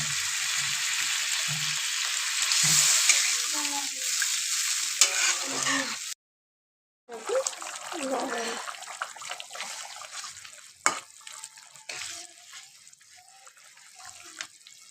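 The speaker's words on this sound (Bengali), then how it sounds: "এবার দিয়ে দিব জল।" Water poured into a hot pan of rui fish curry in a home Bengali kitchen, a hiss and sizzle with stirring and splashing, a short break of silence midway, then quieter bubbling and clatter.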